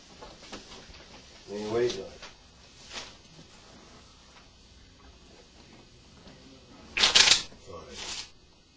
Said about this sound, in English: Would you shuffle the cards